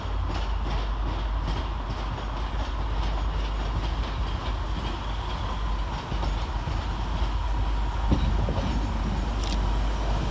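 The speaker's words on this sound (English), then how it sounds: "arriving to terminate with a Northern Rail service from Huddersfield is" A Northern Rail train, a Class 150 diesel unit, pulls into Sheffield railway station with a steady, loud rumble of engine and wheels, continuous and close throughout, with faint clicks and a brief squeal near the end.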